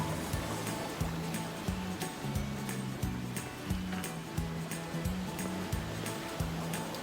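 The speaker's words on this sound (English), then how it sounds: "We've had some big rocky rolly waves, but it's actually pretty okay." Rocky, rolling ocean waves wash steadily around a sailboat running wing on wing, a continuous broad rush of water with a regular low thumping rhythm underneath, loud and close, with no talk.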